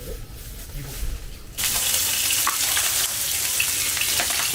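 Beef intestines (daechang) frying in cooking oil, a steady loud sizzle that bursts in after a quieter start and holds dense and close to the end.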